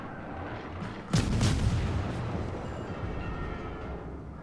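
A British tier-5 destroyer, the Acasta, fires its guns in the naval combat game World of Warships: one sudden loud boom that rolls off into a fading rumble.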